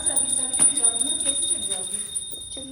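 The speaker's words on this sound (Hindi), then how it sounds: "घंटी के आवाज में" A small hand bell rings steadily during a home puja prayer, bright repeated chimes sounding close while a person talks over it.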